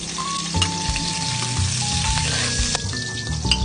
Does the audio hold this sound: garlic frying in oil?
yes